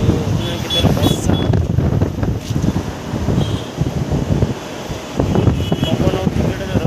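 Strong wind and heavy rain roar in loud, gusting surges close to the microphone, with a voice talking intermittently over the constant wash of noise.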